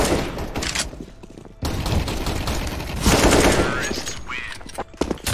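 Rapid bursts of AK rifle fire in the shooter game CS:GO, loud and close, with sharp gaps between volleys and a short cut in the middle.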